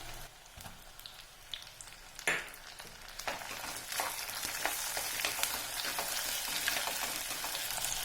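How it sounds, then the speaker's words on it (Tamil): Onion, curry leaves and tomato sautéing in a pan for a village-style dry fish gravy, a steady close sizzle and frying crackle with occasional stirring scrapes and clinks, no talk. "வெங்காயம் கருவேப்பிலை சேர்த்து நம்ம வதக்கிக்கலாம்"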